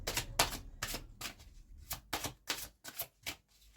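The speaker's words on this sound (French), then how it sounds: "on va tirer une autre carte" Tarot cards are handled close up in a quick series of crisp slaps and riffles, about eight short bursts in a near-even rhythm, with no talk.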